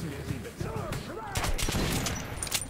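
Rapid bursts of video-game gunfire from Metro: Last Light Redux, clustered shots and booms across under a few seconds, with a player talking over the action.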